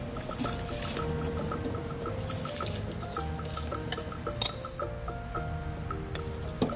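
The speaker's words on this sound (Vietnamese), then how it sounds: "Bây giờ mình sẽ cho gạo với nếp vào luôn." Rice and glutinous rice poured into a pot of about four litres of water, a continuous soft pouring and trickling with light clinks, close and moderately quiet, with no talk.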